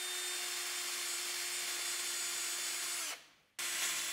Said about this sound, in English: If I give these screws a clean up with a wire brush, hopefully they'll come out easier.